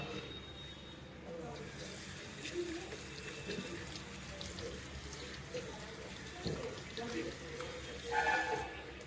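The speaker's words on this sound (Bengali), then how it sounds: "হাত ধুয়ে নেব।" Hands being washed under a running tap at a sink, a steady soft splash of flowing water with occasional louder spatters, fairly close and continuous throughout.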